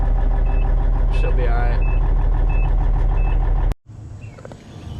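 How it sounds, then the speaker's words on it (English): A 1991 Peterbilt 379 truck engine idles with a slight misfire, a close, steady rumble with faint repeating beeps over it, cutting off abruptly near the end as a person speaks. "Probably got a little bit of a miss in the motor"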